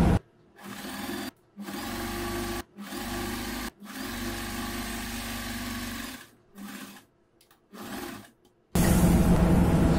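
A sewing machine stitches the leg seam of a churidar pant in several whirring runs of a few seconds each, separated by short pauses, close and steady, with no talk over it.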